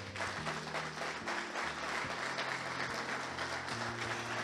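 A church congregation claps during a men's network service, faint, steady applause lasting a few seconds beneath sustained low music tones.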